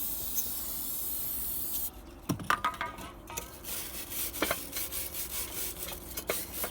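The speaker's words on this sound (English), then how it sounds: "give it a good scrub down" A brush scrubs the brake rotor of a 2001-2007 Dodge Caravan sprayed with brake cleaner, an opening steady spray hiss followed by close, irregular rasping scrub strokes, with no talking.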